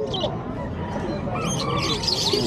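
Cockatiels and other caged birds at a bird market in Bocaue, Bulacan give scattered high chirps and tweets, heard close under the murmur of people talking nearby.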